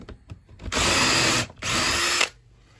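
A power drill cleaning out a hole in an oak tabletop, two loud close bursts of whirring drilling separated by a brief pause, with light handling clicks before and after.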